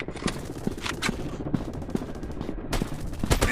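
Rapid bursts of gunfire from a first-person counter-terrorist shooter game, with sharp repeated shots spread across the clip and a denser volley near the end, loud and close.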